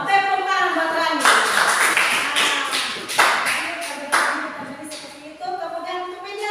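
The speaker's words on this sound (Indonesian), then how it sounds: "Tepuk tangan buat Kandi." A classroom group claps together for several seconds, a dense run of hand claps with a few sharper bursts, while a voice talks over the clapping.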